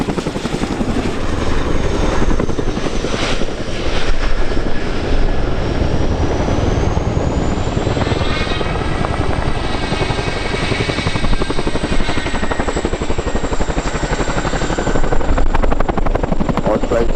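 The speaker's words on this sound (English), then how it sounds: "This manoeuvre allows us to stop the aircraft in a tight area and reach the spotted blades on the battlefield." Military helicopter flying a nose-up quick stop manoeuvre at the RIAT air show, a loud, continuous rotor and engine roar with rising and falling whine throughout, steady and near, with a commentator's voice underneath.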